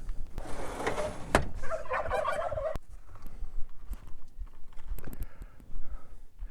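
Farm turkeys gobbling near a pen with goats, bursts of rapid warbling calls in the first few seconds, then quieter clunks, rustles and scattered knocks nearby.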